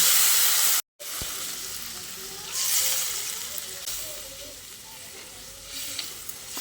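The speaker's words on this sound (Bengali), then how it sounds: "এবার আমি এর মধ্যে আরও খানিকটা জল দিয়ে দিচ্ছি" Water poured into a sizzling pan of soybean chunks, capsicum and spices for a curry, giving a steady broadband hiss with a brief dropout, then swelling fizz and bubbling close by; no one speaks.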